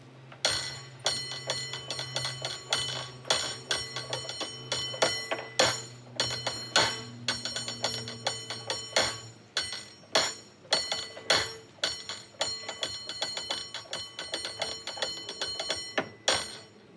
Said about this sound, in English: Are you going to give us now a demonstration of your skills, please, of bell ringing?